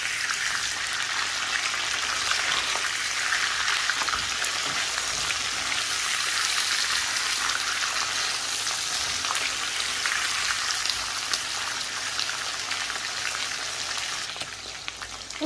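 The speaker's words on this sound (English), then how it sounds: "we're going to add the 1 teaspoon of ginger and garlic paste, and then just stir that in" Ginger garlic paste fries in oil for chicken karahi, a continuous bright hiss like steady rain, close and even throughout with no voices.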